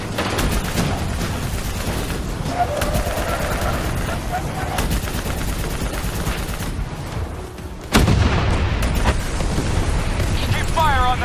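Turret gunfire in a Call of Duty Black Ops 3 battle scene, a loud continuous stream of rapid shots over rumbling combat noise, with a sharp jump in intensity near the end and voices shouting amid the action.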